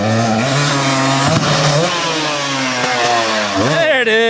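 A motorcycle engine revs loudly and continuously at close range, pitch holding steady then dipping and climbing again near the end, with no talk over it.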